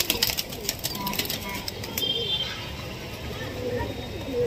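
Young pigeons in flight training, with faint cooing and fluttering bird sounds under a steady wash of outdoor noise.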